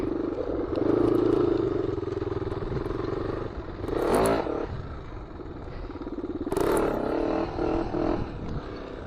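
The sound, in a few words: Honda 400EX ATV engine accelerating in second gear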